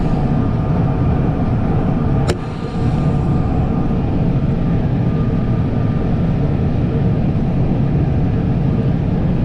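A tractor pulls a New Holland 488 haybine mower in fourth gear, its engine a steady, loud drone with continuous mechanical rumble and a single brief click partway through.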